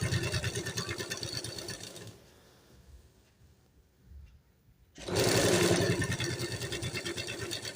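A sewing machine rattles rapidly while stitching the neckline of a lined kurti, running in fast bursts, pausing briefly in the middle, then speeding up again, close and clear.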